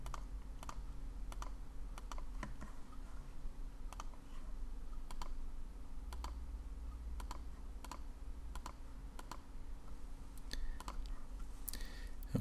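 Faint clicking on a computer, quick taps scattered through a steady low background hum, close and quiet with no voices.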